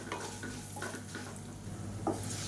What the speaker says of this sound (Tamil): பூண்டு வந்து நல்லா அப்படியே ப்ரௌன் கலரில் வரணும்.